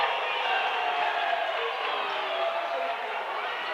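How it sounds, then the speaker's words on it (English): Gym crowd at a high school basketball game, Baker versus Murphy, roaring in a steady, dense wash of cheering and shouting that holds level throughout with no break. "Crowd's definitely getting into it."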